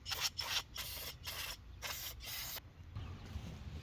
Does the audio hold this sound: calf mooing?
no